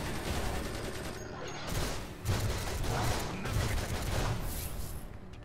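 Chain gun power firing in DC Universe Online, a rapid, sustained rattle of mechanical gunfire at moderate loudness, continuing steadily for several seconds with slight surges in intensity.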